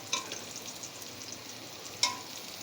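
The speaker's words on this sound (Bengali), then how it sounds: "আর টমেটোগুলো দেখো আমি এই যে একটু তেলের মধ্যে দিয়ে দিয়েছি" Tomatoes frying in a little oil after eggplant pieces have been fried, for an eggplant and tomato bharta, giving a soft, steady sizzle with two sharp clicks of stirring against the pan.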